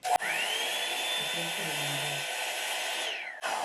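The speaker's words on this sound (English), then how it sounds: "we're gonna put this hair blow dryer thing to the test" A Revlon One-Step hair dryer brush whirs on its high setting, a steady loud airy whine that starts abruptly, holds for about three seconds and then cuts off.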